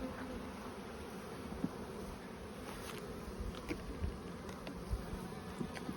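Honey bees buzz around a beehive in a steady, soft outdoor drone, with individual bees flying close past now and then.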